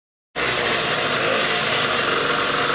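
A rare motorcycle engine, freshly carb-cleaned, starts abruptly after a brief silence and runs steadily at a loud, even drone close by, with no talk.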